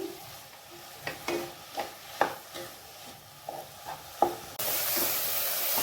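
Chow chow (chayote) halwa stirred with ghee in a pan for a Deepavali sweet, giving soft intermittent scraping strokes over a low sizzle, then a steady louder hiss near the end.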